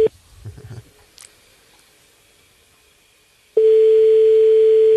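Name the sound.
telephone call tone while calling a listener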